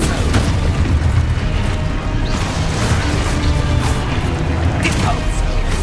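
A spell-cast explosion in the video game Hogwarts Legacy bursts out amid a dense, continuous din of combat crashes and booms, loud and close, with a voice shouting spell names over the clamor.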